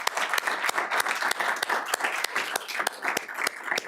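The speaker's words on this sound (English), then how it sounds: "So how about a big round of applause?" Audience applause at a Douglas County school board meeting: dense, steady clapping from a roomful of people that holds at an even level for the whole stretch, with no talking over it.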